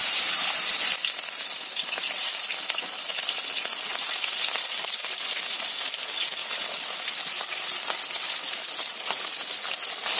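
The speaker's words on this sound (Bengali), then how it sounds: "এক সাইড ভাজা হলে আমি অপর সাইডটা উল্টে দেব, দিয়ে অল্প লাল লাল করে আমি সমস্ত মাছগুলো ভেজে নেব" Pieces of fish coated in turmeric and salt fry in hot oil in a kadai, giving a dense, loud, even hiss of spitting oil that runs without a break.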